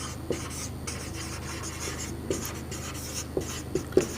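Chalk or marker writing on a board during a class 10 maths lesson, a soft continuous scratching with several sharp taps in the final second, steady and close, with no talk.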